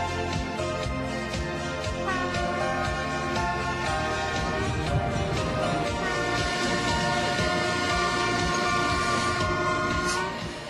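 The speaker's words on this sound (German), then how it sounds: "dann kann die Fennbahn in den Bahnhof von Monschau einfahren" A train on the Vennbahn rumbles steadily nearby as it arrives at Monschau station, with rhythmic wheel clatter and a sustained horn-like tone, continuous and loud throughout.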